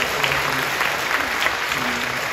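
A church congregation applauds to welcome middle and high school students, a broad, even roar of clapping from a large crowd that holds steady throughout, with faint voices underneath.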